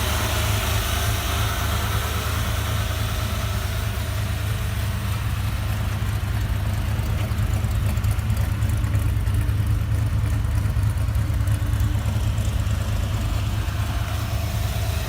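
An early Ford Bronco engine idles steadily after its first start in 26 years, a constant low rumble that holds at an even level throughout with no voices.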